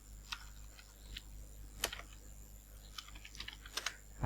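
Entering a student's name on a computer keyboard in school management software: sparse, quiet, irregular keystroke clicks with small gaps between them over a low background.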